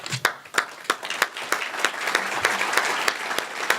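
Applause from a small audience at an annual meeting, with sparse, distinct hand claps near the microphone over a softer background of crowd clapping, building into a denser, steady patter.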